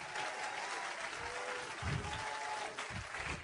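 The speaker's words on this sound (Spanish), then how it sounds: "Un aplauso más fuerte al Señor en esta hora." Sustained applause fills a church as worshippers clap for the Lord, a faint, dense patter with low murmuring voices beneath it.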